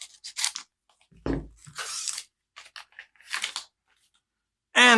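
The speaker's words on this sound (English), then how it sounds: "Let's get started with the Trine pack and my trusty pair of scissors." Several short, crisp scissor snips cutting open a Rüniverse booster card pack, with brief quiet gaps between the cuts and a little crinkling of the pack's wrapper.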